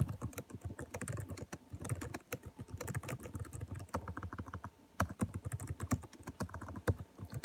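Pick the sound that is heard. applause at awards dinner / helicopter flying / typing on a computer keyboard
typing on a computer keyboard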